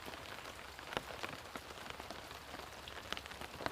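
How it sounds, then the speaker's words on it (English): Steady rain pours down on a wet morning in Baltimore, a dense, even hiss spotted with sharp drips and spatters striking hard surfaces close by, with no voices. "We are live from Baltimore on a very wet and rainy day"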